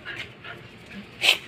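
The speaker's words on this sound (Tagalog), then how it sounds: "lumabas yata yung aking aso" A pet dog makes a few soft whimpers and a sharper yelp near the end, brief and close in a quiet indoor room.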